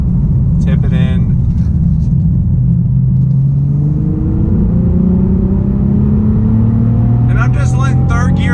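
A 2019 Nissan 370Z NISMO engine revs up and pulls hard in third gear out of a turn, its pitch climbing steadily as it accelerates, with brief tire or road noise at the start and end.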